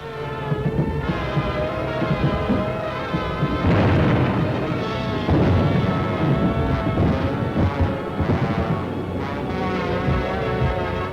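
Firebombs falling and exploding over London in wartime footage: a dense, continuous barrage of crashes, booms and bursts lasting over ten seconds, loud and layered beneath a steady musical score.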